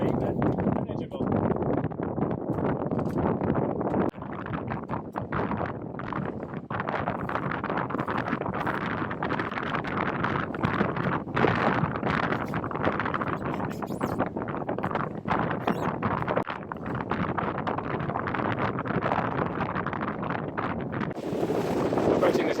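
Steady, roaring wind buffets the microphone on a small sailboat, with water rushing underneath and a voice talking over it.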